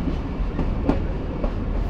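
A Rajshahi to Rohanpur commuter train in Bangladesh rumbles steadily along the tracks with a low, continuous roar and faint rhythmic clacks, heard from on board.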